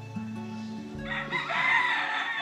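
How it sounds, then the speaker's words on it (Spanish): Roosters crow at a rural ranch in Guerrero, Mexico, one long drawn-out call rising and breaking into a harsh, wavering finish, fairly close against a quiet background. "Oigan los gallos,"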